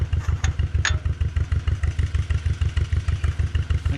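An old farm tractor engine thumps along at a steady idle, with fast, regular low pulses loud and close and a couple of clanks near the start, no voices.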